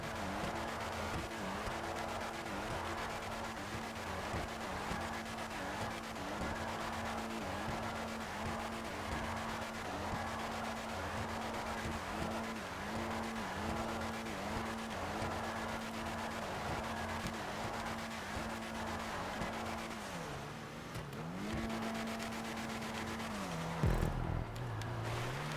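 Continuous engine drone of an Ubermacht Zion Classic drifting in GTA 5 Online, with the pitch wavering up and down through repeated revs and slides, steady and close throughout before a brief dip near the end.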